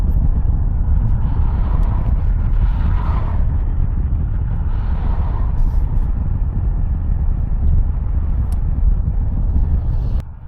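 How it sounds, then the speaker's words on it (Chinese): A car drives around the large roundabout circling the triumphal arch in Astana, a steady close rumble of engine and tyre noise from inside the vehicle that continues evenly to the end. "开车再穿越一下"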